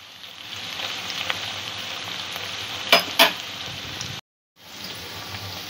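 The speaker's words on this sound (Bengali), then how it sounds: "পেঁয়াজটা একটু ভাজা হয়ে যাবার পরে ছোলাটা আমি দিয়ে দেব।" Onion fries in oil in a pan for chole, a steady close sizzle with stirring, two sharp utensil clinks, then a momentary gap before the hiss resumes.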